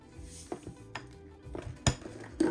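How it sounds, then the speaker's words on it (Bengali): Spoon scraping and clinking against a bowl while tandoori chicken spices are stirred together, several short close knocks and scrapes spread over a few seconds. "মশলাটা আমি সব একসাথে মাখিয়ে নিচ্ছি, তারপরে আমি চিকেনের সাথে অ্যাড করব।"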